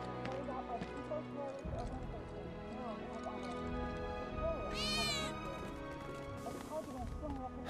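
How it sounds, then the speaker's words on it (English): A cat meows in the Final Fantasy VII Remake video game, a few short clear mews heard over game background sounds of hooves clip-clopping and ambient music, with speech present. "I think one of Betty's cats might be nearby."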